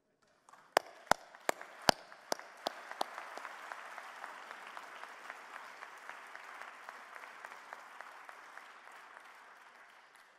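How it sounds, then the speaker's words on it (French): Audience applause at a conference approving a set of recommendations, beginning with a few sharp, loud individual claps before building into a steady wash of clapping from a large crowd that gradually fades. "Et je vous invite maintenant, par vos applaudissements, pour autant que vous les partagiez,"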